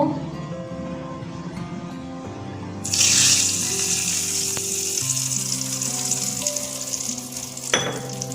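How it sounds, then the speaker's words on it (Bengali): Dried red chili and black mustard seeds sizzle in hot tempering oil, a steady crackling fry that jumps louder partway through and holds close and continuous, with a brief clatter near the end. "একটা শুকনো লঙ্কা ফোড়নে দিয়ে দিচ্ছি লঙ্কাটা লাল করে ভেজে নেব"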